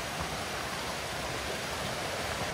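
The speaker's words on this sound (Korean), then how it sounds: "물소리도 좋고" Steady rushing water flows without pause, a broad continuous wash of a mountain stream tumbling over rocks in a valley on Bangtaesan, South Korea, in autumn.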